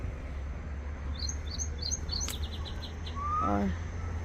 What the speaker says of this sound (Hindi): चिड़िया की आवाज़ सुनो, वो सामने बैठी थी वहाँ।